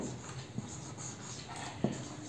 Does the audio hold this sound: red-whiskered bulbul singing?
no